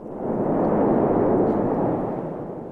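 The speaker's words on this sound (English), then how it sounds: "the big booms that we're hearing are huge gas bubbles in the magma that are popping open" A volcanic eruption lets out a deep, rumbling boom as huge gas bubbles burst open in the magma, one sustained blast swelling and fading over a couple of seconds.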